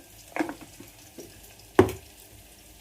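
Onion with a little turmeric being sautéed in a pan for khichdi, two short bursts of stirring sizzle with quieter scraping between, close by and with no talk.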